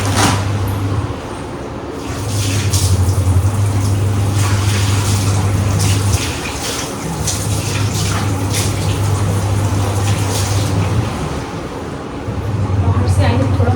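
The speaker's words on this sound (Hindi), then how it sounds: "इसको पहले मैं हाथ धो लूँ" Hands are washed under a running tap, a continuous splashing water stream with a low steady hum cycling underneath, close and fairly loud, while a person talks over it.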